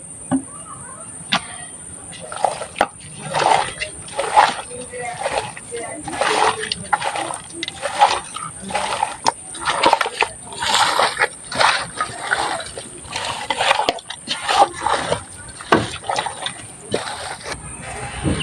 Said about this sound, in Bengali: এবার আমি তেল দিয়ে ভালোভাবে মাখিয়ে নেব